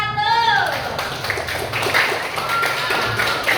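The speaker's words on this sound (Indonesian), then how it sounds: "tepuk tangan untuk kelompok 2 dan kelompok 1" Classroom students clap for two presenting groups, a scattered patter of hands with some sharper taps, moderately close, while a voice trails off at the start.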